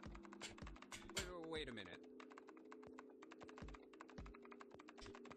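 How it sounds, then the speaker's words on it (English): Rapid clacky keyboard typing from the video game Nine Hours, Nine Persons, Nine Doors runs steadily in quick bursts, with a voice speaking briefly over it near the start. "She just keeps typing no matter what."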